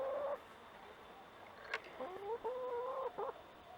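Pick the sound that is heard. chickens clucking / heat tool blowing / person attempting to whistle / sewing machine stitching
chickens clucking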